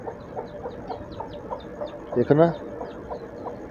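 A hen clucks in a steady run of soft, rhythmic calls beside her newly hatched chicks, with a brief louder burst, heard close over someone talking in a rural haveli courtyard.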